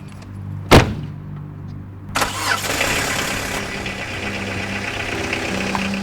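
An old car's engine starts in a film scene. A sharp click comes first, then the engine cranks and catches into a rough, steady idle close by.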